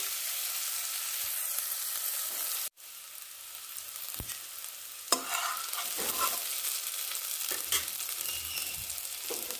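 Onions with turmeric sizzle steadily in a frying pan for a silkworm pupae (polu or leta) fry, with stirring scrapes and clinks over the constant frying.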